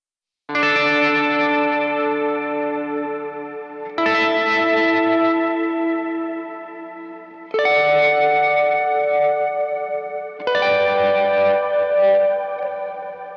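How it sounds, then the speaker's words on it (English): Four chords on an acoustic guitar are strummed through a Blue Sky reverb pedal set to wet mode, each one ringing out into a long, lush tail that fades before the next strike, roughly every three to four seconds. "the Blue Sky is hanging out over on my acoustic board where I don't really need anything special, just like a good sounding reverb"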